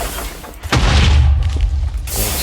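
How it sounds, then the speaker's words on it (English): A mech's arm-mounted rocket fires in a video game, a heavy booming launch with a deep low rumble that swells and holds for a second or so before cutting away, loud and close. "the arm rocket"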